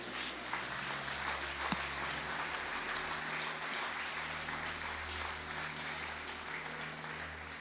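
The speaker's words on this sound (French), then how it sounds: "Applaudissez le Seigneur." Church congregation applauds the Lord, a distant, steady wash of clapping that holds evenly throughout over a low room hum.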